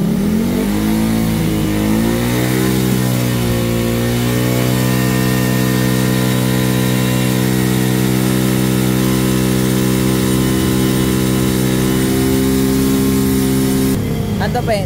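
A hot Raider 150 carbureted motorcycle engine idles loud and close, its pitch wavering unevenly at first as if revved lightly, then settling into a steady, throbbing idle.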